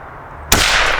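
A Ruger 10/22 rifle firing a .22 LR round, a single sharp crack halfway through after quiet, followed by a bright sustained noisy tail.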